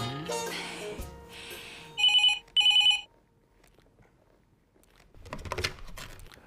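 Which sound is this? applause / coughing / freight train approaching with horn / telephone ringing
telephone ringing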